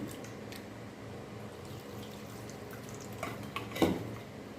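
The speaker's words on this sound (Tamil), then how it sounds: "அதோட புளி தண்ணி கொஞ்சம் கரைச்சி விட்டுக்கலாம்" Tamarind water is poured into a cooking pan, giving a soft continuous liquid wash with a few sharper splashes and drips near the end.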